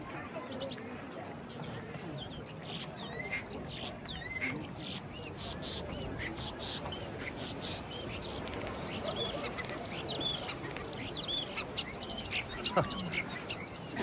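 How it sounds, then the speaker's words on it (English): Starlings sing in a busy chorus of chirps, whistles and clicks at a seaside town in March, near and continuous over faint background noise, with a voice briefly speaking. "Just have a look at the starlings singing."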